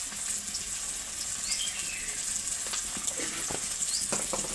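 Ground cumin and coriander fry in a pan, a continuous close sizzle with watery crackle and a few sharp ticks and scrapes toward the end.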